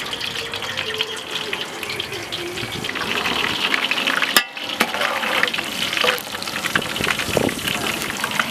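Cinnamon, cloves, cardamom and bay leaf fry in hot coconut oil in a large pan, a loud, continuous crackling sizzle close up that cuts out briefly midway before resuming.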